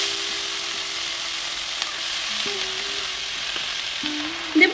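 Chopped banana flower frying in a pan with chui jhal chillies for a hilsa fish head recipe, giving a soft, steady sizzle close by, with a faint stirring clatter near the end.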